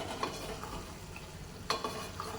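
Boiled eggs are gently stirred into a simmering drumstick and tomato curry. A soft, low sizzle runs under a few quiet spoon scrapes and taps against the pan, with one firmer scrape near the end.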